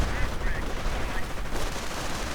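Submachine guns rattle in a WWII strategy video game, a dense, continuous crackle of overlapping gunfire with small-arms bursts layered throughout the short stretch.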